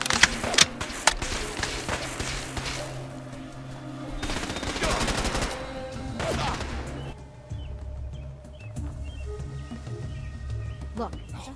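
Rapid laser gunfire crackles during a Fallout 4 settlement battle against gunners, with dense bursts of shots and impacts and a quieter lull near the end. Characters shout and a player talks over the fighting.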